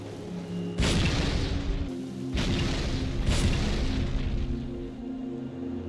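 Grenade explosions in the Halo 2 video game, used for grenade jumps: three loud, close booms, each roaring for about a second, with short gaps between them.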